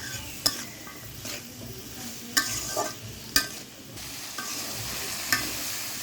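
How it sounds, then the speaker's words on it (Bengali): Jute leaves fry in a pan with turmeric, chili powder and salt, a steady close sizzle broken by several sharp clinks and scrapes of a stirring utensil against the pan. "এখন ওটা বানাইয়ে ভাজি দেবো।"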